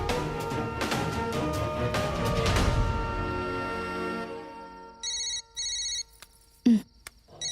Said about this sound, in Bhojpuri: भूमि के फोन